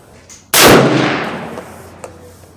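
A single loud, sharp report from a .358 Winchester Browning BLR lever-action rifle fired without a recoil pad, with its boom rolling away into a long fading echo outdoors.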